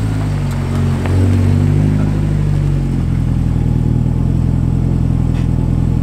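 A 540hp Honda Civic engine with VTEC disabled runs steadily up close, rising briefly as if lightly revved before settling back to a throbbing idle. No voices are heard.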